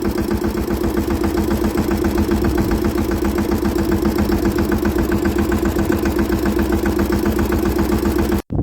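A pump motor spraying pesticide on a cumin field runs steadily up close, a loud rhythmic chugging throb that continues unbroken before cutting off abruptly at the end.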